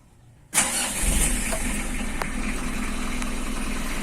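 A car engine is started for warming up. After a brief quiet moment the starter catches and the engine fires loudly, then settles into a steady, rumbling idle nearby.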